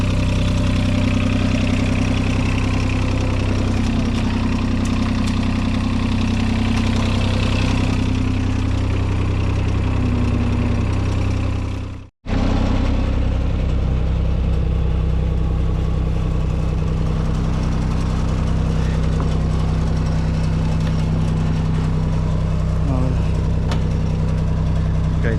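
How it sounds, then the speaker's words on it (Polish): Three-cylinder diesel engine of an excavator idling steadily up close, a continuous loud mechanical drone with a brief cut near the middle. "silniczek 3-cylindrowy fajnie cichutko chodzi"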